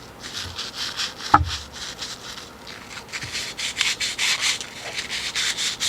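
A valve from a JF011E / RE0F10A CVT transmission valve body is rubbed lightly on abrasive paper, making close, repeated scratchy strokes with a brief knock partway through. No one speaks.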